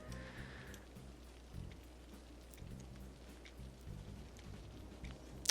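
Rain in the game Cities: Skylines, a faint steady patter of drops throughout at low level, with a pulsing low hum under it and a small sharp tick near the end.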